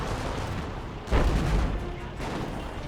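Artillery barrage explosions in Company of Heroes rumble as a steady low roar, with one heavier boom landing about a second in and a softer hit shortly after.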